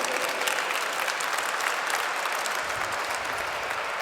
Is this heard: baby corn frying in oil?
no